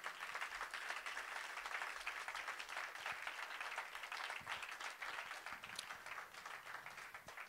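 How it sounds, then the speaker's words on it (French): A church congregation applauds and acclaims during a worship service, dense sustained clapping from many hands at a steady level, fairly distant and diffuse, with no voices standing out. "Acclamons le Seigneur."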